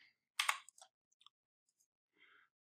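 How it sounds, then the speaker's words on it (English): A computer mouse clicks on an on-screen button to run code: one crisp click stands out among a few faint small clicks in an otherwise quiet room. "I have to click the button to make this run right on event"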